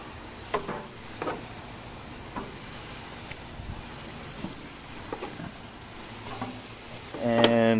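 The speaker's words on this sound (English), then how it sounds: "And I'm just going to put the fillets directly on the heat." Beef filet mignon steaks laid on a grill preheated past 600 degrees, with a low continuous sizzle and several soft knocks and clacks as the meat goes down, then a brief squeaky scrape at the end.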